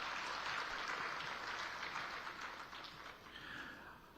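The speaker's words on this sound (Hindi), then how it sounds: "आपको राजस्थान सरकार के लिए ताली बजाकर बधाई देनी चाहिए" Steady applause from an audience at a public address in Jaipur, Rajasthan, with dense clapping that fills the whole stretch at an even level before easing slightly toward the end.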